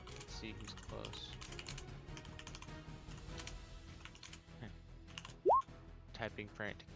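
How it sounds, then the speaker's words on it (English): Fast, frantic clatter of a computer keyboard during an online tabletop game session, dense irregular key taps with a brief tonal blip near the end, faint, under quiet voices. "Typing frantic noises get more frantic."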